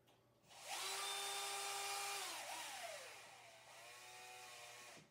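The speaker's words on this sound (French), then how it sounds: "Donc, la petite perceuse Bosch." A small Bosch electric drill spins up and whines steadily at high speed, dipping in pitch briefly under load before running on and stopping, loud and close with no talking.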